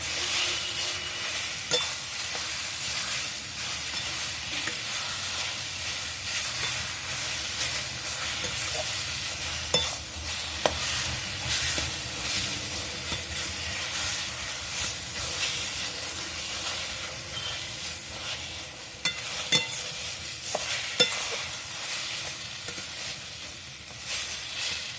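Pointed gourd in mustard fries on a gas stove in a steady, close hissing sizzle, with occasional soft scrapes and clicks of stirring throughout.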